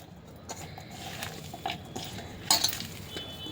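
Pakodi ingredients being stirred together in a bowl, with soft scraping and a few light clinks of a utensil against the dish, fairly quiet and close, with no talking.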